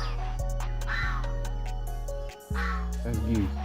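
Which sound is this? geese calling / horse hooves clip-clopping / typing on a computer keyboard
geese calling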